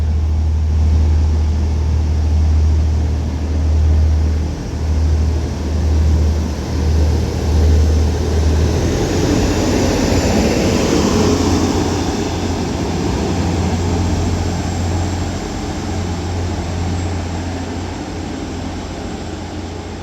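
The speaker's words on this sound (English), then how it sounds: "Now departing is going to be the 1350 Transpennine Express service to Liverpool" A Class 185 TransPennine Express diesel train pulls out of Liverpool South Parkway toward Liverpool Lime Street, a low throbbing engine hum under a broad rumble that swells and then slowly fades.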